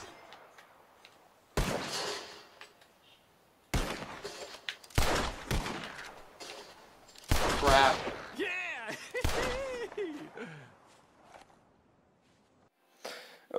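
Gunshots from a Red Dead Redemption 2 train robbery ring out in several sharp, loud bursts spread across the stretch, with quieter gaps and talking between them.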